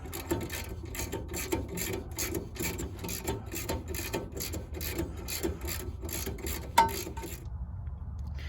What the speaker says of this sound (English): Get that castle nut loose.